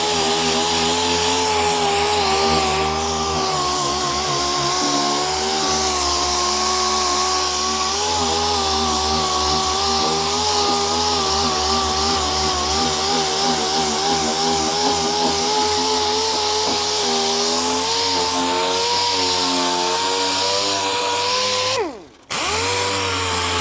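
A power sander working over wood, a loud, steady, buzzing motor drone that runs continuously for over twenty seconds, briefly cutting out near the end.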